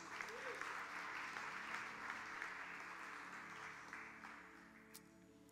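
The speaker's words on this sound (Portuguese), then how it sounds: "Você pode aplaudir Jesus?" A church congregation applauds during a worship service, a steady wash of clapping at moderate distance that slowly thins out, with faint voices beneath.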